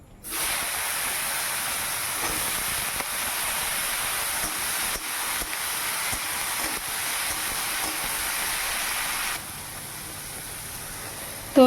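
Loud, steady hissing sizzle of oil frying nigella seeds, dried red chillies and water lily stems in a kadai, continuous and close, that drops off sharply near the end.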